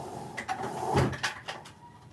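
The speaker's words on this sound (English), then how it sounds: "taking out my drawers" Drawers being pulled out at home: a few soft wooden slides and knocks over about two seconds, close by and moderately loud, with no talk.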